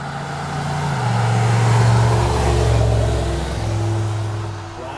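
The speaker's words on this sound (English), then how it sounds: "a lot of traffic tonight." Road traffic rolling past in the evening, a car engine swelling loud and near then easing off as it passes, with steady tyre roar and the hum of more vehicles behind.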